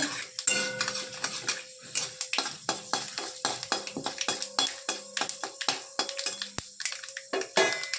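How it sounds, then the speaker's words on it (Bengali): Chana dal is fried in a pan while making semolina dosa: a metal spatula scrapes and clinks repeatedly against the pan over a faint, soft sizzle, with no talking. "এটা একটু ভাজা ভাজা করে নিচ্ছি"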